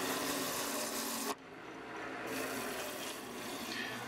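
A skew chisel cuts a mulberry wood dish spinning on a lathe, giving a continuous close, coarse rasping scrape that breaks off for a moment and then starts again more softly.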